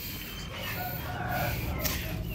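Young roosters, small stags, crow among clucking fowl on a farm, a short burst of hoarse crowing over a steady, noisy background.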